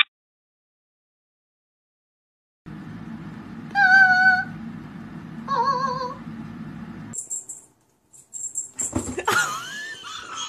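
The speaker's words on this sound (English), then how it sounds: "Now this is a Turkish Angora cat." A fluffy Turkish Angora cat meows twice, clear and nearby, over a steady low hum, followed by a few higher squeaky animal calls.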